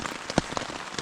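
Rain falls steadily on surfaces at a campsite during a windy canoe trip on a big lake. The patter is dense and continuous, with a few sharper, louder drops standing out, and no voices.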